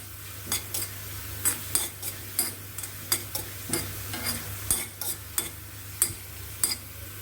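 Pomegranate peel frying in a pan for tambuli, stirred with a spatula that gives regular crisp scraping clicks about every half second over a soft continuous sizzle.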